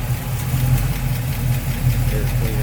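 A 1973 Chevrolet Camaro's 427 V8 with headers and dual exhaust idles close by in a steady, lumpy low rumble with a regular pulsing rhythm.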